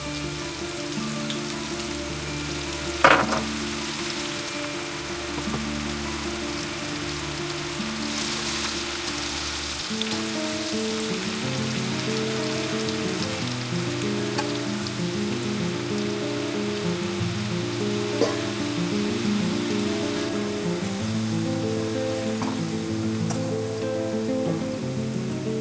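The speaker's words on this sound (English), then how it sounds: "Then we drop them into the hot oil and fry them until they are golden brown." Flour-coated onion pieces fry in hot oil with a steady crackling sizzle that holds for the whole stretch, fairly close and even, with one brief sharper clatter early on.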